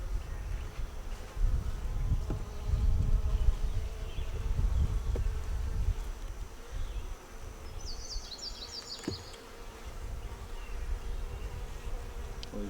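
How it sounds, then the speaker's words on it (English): Bees hum in a continuous low buzz close by at a hive, a busy swarm drone with occasional wingbeats passing near. "Those bees are having a feast, aren't they?"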